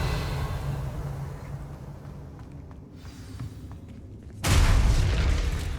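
A Confringo spell in Hogwarts Legacy goes off as one loud close blast near the end, after a stretch of quieter low rumbling game sound.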